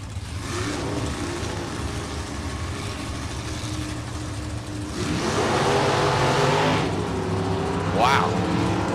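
Drag racing cars, a 1967 Camaro and a 1997 Firebird, idle and rumble at the strip, then engines swell louder around the midpoint with a brief sharp rise near the end, while a commentator talks throughout.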